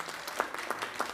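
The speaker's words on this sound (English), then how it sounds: "You have to clap better than that so it can be bigger next year." Applause from a conference audience, a brief patch of scattered clapping with a few louder claps standing out, moderately close.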